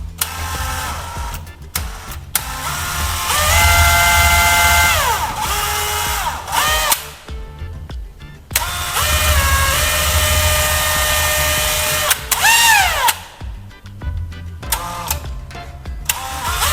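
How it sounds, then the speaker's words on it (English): A handheld power drill boring four small holes into a marked board, with loud, sustained whining bursts that rise and fall in pitch as each hole is drilled, separated by short pauses. "After marking, I drilled 4 small holes."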